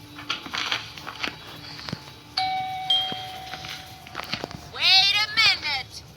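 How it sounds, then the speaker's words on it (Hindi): A doorbell chimes, ringing out a few bright tones, with voices talking around it and some shuffling movement nearby. "पहली बार घंटी बजाई है मैंने"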